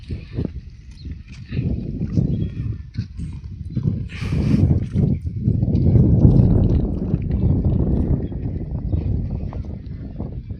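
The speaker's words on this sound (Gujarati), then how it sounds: "ઘોડો રાગે પડે છે ધીમે ધીમે" A horse's hooves clip-clop in an uneven rhythm, close and fairly loud, while the animal is being worked to jump, with some rustling and faint voices around it.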